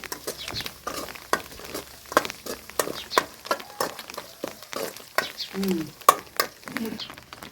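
Curry leaves and spices fry in oil for a village-style ridge gourd curry, a steady close sizzle broken by frequent clicks and taps of stirring, with a voice briefly audible underneath.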